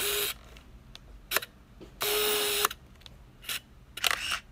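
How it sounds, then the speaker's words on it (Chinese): A Canon EOS Kiss film SLR camera fires its shutter several times in a quiet room: sharp mechanical clicks and whirs come in quick separate bursts, one longer winding burst in the middle, all close and clear. "那我们来看一下这快门"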